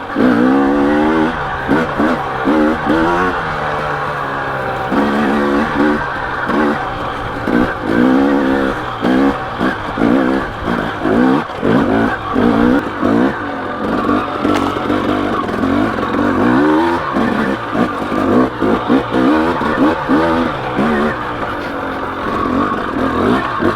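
A KTM dirt bike (250XC or 300XC two-stroke) accelerates hard in second gear, its loud close engine revving up and down in repeated surges for the whole stretch with no talk.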